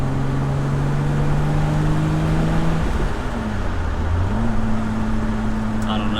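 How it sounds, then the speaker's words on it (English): A BMW E30's engine drones steadily under acceleration while driving, its pitch holding and then dipping mid-clip before climbing again as the revs rise, heard from inside the car. "I gotta get used to revving it higher"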